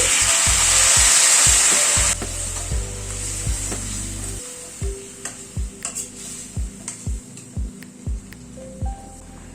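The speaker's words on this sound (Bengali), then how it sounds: "এবার গরম জল অ্যাড করে দিচ্ছি" Hot water is poured into a pan of frying potatoes and chicken, setting off a loud hissing sizzle for about two seconds that then gives way to a run of rhythmic scraping stirs over a low bubbling simmer.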